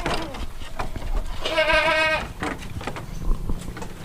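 Goats bleating at a goat market on a farm in Lampung Tengah, with one clear wavering bleat standing out amid crowd chatter and background livestock noise.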